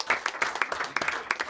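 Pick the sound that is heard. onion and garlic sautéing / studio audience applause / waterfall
studio audience applause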